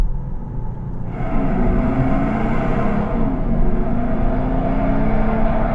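A Maserati Ghibli diesel engine revs up with a deep, smooth growl, pitch climbing then easing off as it downshifts, loud and close with no talking.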